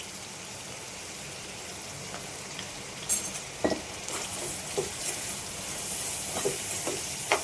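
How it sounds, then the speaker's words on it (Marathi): Onion and green chili dropped into hot oil in a kadai, a steady crackling sizzle that swells slightly, broken by several clinks and scrapes of a spatula against the metal. "कढईमध्ये तेल तापायला ठेवलंय मी तेल पण तापलं आता यात कांदा आणि मिरची दोन्ही सोबतच टाकते"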